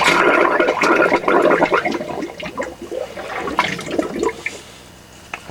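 Hot water rushes and gurgles out of a motorhome wash basin tap that was pressurised to 15 psi and has a cloth held over its end. The flow starts loud and steady and then tapers off to a thinner trickle.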